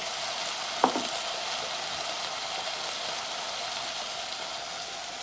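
Adobo sauce of vinegar and brown sugar sizzles steadily in a pan, a broad even frying hiss with one brief clink of a spoon early on as it is stirred, no voices.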